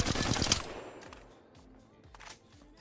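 Flatline assault rifle from Apex Legends fires a fast, loud burst for about half a second, followed by a fading echoing tail with scattered faint clicks.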